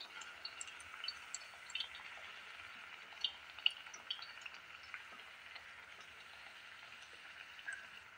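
Puri made from semolina sizzles quietly in hot oil, a soft, steady hiss with small scattered pops and crackles. No one speaks.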